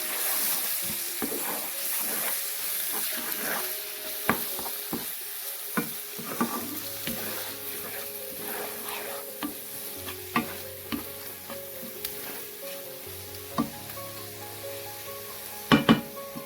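Bottle gourd with tomato and green chili sizzles gently in a pan while a spoon stirs and scrapes, giving occasional sharp clinks against the metal over a steady frying hiss, close and without speech.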